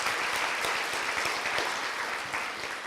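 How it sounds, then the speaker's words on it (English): Sustained audience applause fills a breakfast event hall, steady and dense throughout with no break, loud and close, with no voices rising above the clapping. "let's give another round of applause as well for those who sponsored this event."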